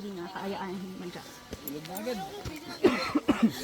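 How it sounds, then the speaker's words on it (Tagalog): A person on a mountain hike coughs in a quick cluster of short, harsh bursts near the end, following close conversational talk. "Bigla ka naman umubo."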